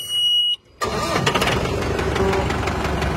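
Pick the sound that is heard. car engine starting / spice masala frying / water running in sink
car engine starting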